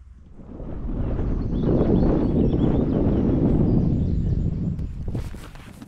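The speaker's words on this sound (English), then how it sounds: "Overcast, blustery, and raining." Blustery wind and rain buffet an outdoor hiking spot in the English Cotswolds, building into a loud, rumbling gust that roars for several seconds before easing, followed by a few close rustles.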